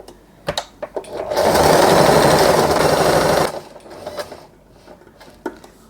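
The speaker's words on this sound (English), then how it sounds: "As you can see, we have sewed the fabric" A sewing machine stitching fabric for a sailor hair bow runs in a loud, close, steady burst of about two seconds, with a few clicks and fabric handling sounds before and after.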